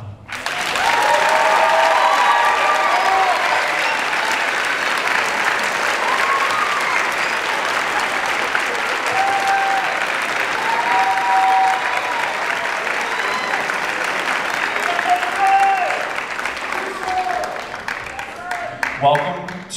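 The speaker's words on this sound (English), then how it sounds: "You can clap for them." An audience at a fifth grade band concert applauds steadily for about twenty seconds, dense clapping with cheers and voices mixed in, tapering into scattered claps at the end.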